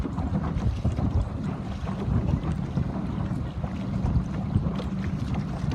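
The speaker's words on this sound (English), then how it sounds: "Really good wind coming." Wind blowing over a small Sabot sailboat in a regatta, a continuous gusty rushing with water sloshing, close to the microphone and without talk.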